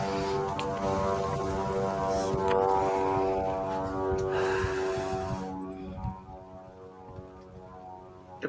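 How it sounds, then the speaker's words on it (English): A propeller airplane drones overhead, a steady harmonic engine hum with some breathy noise over it, loud at first and then easing off as it passes. "The plane."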